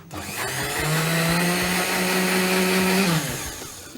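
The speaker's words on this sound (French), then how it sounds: "Alors, on va mixer." A kitchen blender purees white asparagus with basil into a coulis, a loud steady motor whine that rises to full speed and holds for about three seconds before spinning down, heard alone.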